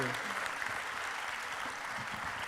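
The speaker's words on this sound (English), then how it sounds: "a huge round of applause for all our winners today." At the Holcim Awards 2023 prize presentation ceremony, an audience applauds the winners with a continuous, even wash of clapping heard from a distance, fairly faint throughout.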